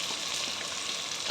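Chopped cabbage, capsicum, carrot and onion fry in a hot pan for chicken fried rice, a steady close sizzle with stirring and a brief louder scrape near the end.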